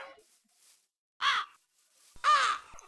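A crow caws twice in a video game, two short harsh calls separated by a pause, fairly close with faint background between them.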